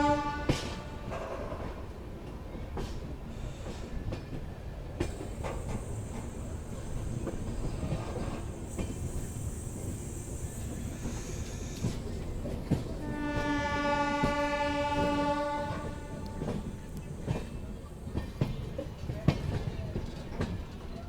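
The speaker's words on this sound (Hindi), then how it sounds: "तो दोस्तों हमारी ट्रेन अब अपने गंतव्य स्थान को तय करती हुई एपी एक्सप्रेस।" Andhra Pradesh Express 20805 rolling toward New Delhi from Gwalior, a steady rail rumble with a loud, sustained horn blast in the middle and wind buffeting throughout.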